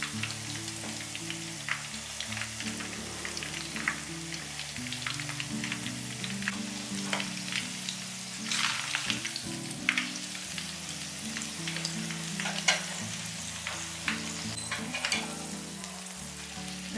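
Shrimp-topped batter cakes made with ice-water batter deep-fry in hot oil, giving a continuous close sizzle with scattered sharp crackles and pops throughout, no voices.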